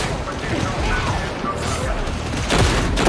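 Sustained covering gunfire in the Warhammer 40,000 game Darktide, a dense unbroken battle din of overlapping shots and impacts with a louder surge near the end; voices can be heard within the noise.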